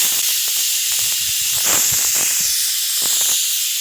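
A pressure cooker full of dal vents steam loudly and steadily, giving a harsh continuous hiss with faint rattling underneath that swells slightly midway, and no talking.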